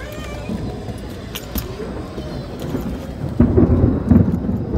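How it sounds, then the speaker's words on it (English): Thunder rumbles low and distant over a zoo otter exhibit, swelling louder toward the end amid soft outdoor background noise. "And as you all heard, that was thunder."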